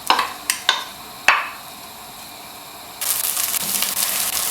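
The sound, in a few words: onions sizzling in hot oil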